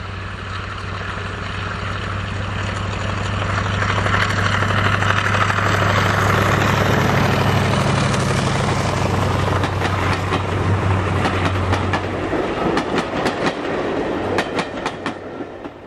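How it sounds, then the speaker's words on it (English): Diesel locomotive D7017, powered by a single 16-cylinder Maybach engine of 1740 horsepower, passes on a heritage line with a loud sustained engine drone and growing wheel rumble, then rhythmic rail clicks as it goes by. "powered by a single 16-cylinder Maybach engine, generating 1740 horsepower, and we see D7017 as she passes Kinchley Lane."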